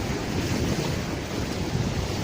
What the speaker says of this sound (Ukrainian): А це Азовське море в селі